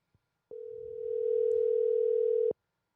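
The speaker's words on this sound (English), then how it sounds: "We're going to give him a call real quick." A single steady telephone tone sounds while a call is being placed, one sustained beep of about two seconds that starts and stops abruptly, clear and close, with faint low background rumble and no talking.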